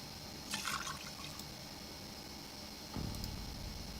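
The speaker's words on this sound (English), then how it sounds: "And add water from the bucket." Water poured from a bucket in the video game Project Zomboid, a soft splashing pour heard twice, faint and alone over a low steady background.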